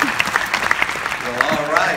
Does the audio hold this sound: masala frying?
no